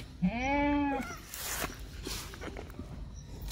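A single Kathiawadi goat gives one clear, close bleat at the start, followed by quieter rustling and movement from the herd.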